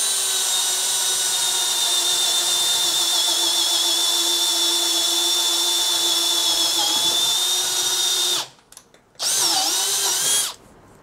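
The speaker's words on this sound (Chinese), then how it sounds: "我们现在先使用这一支 DHP 四八一三用电钻，呃，配上十五 mm 木工钻头，设定在钻孔模式" A Makita DHP481 drill in drilling mode, first gear, boring into wood with a 15 mm woodworking bit: a loud steady motor whine for over eight seconds, a brief stop, then a short second run that winds down.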